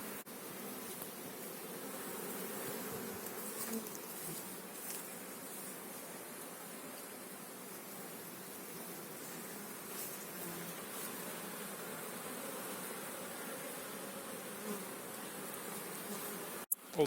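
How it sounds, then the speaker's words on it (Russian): Honeybees flying around their hives after days of rain, a steady dense buzzing swarm drone lasting throughout, fairly close and even, with no talk. "Облетываются пчелки."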